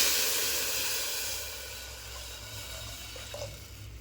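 Water poured into hot oil with fried garlic gives a loud, bright steam hiss that fades over a couple of seconds and settles into a softer, steady simmering sizzle, no voices.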